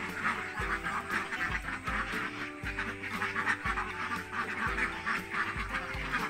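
Laying ducks about four months old quack in scattered, overlapping calls at moderate distance, heard over a steady rhythmic music track.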